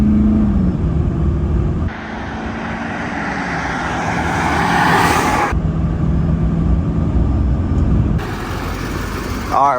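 A Duramax diesel pickup accelerates hard while towing a trailer in a 0-60 test. The engine drone is loud and steady, rising through shifts, with people talking inside the cab.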